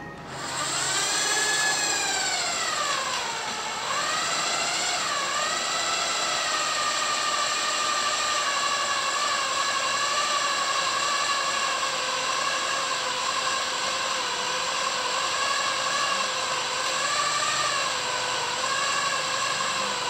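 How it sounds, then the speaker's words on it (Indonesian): A compact power drill whines at a high, steady pitch, dipping briefly under load, then grinding on continuously as it bores through 6 mm steel plate. "sekarang kita coba ngebor plat 6 mili ya"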